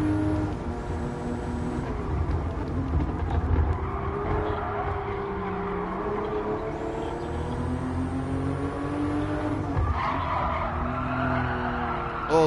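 Car engine revving and tires skidding in a racing video game, a steady loud drone with shifting pitch and squeals, no talking.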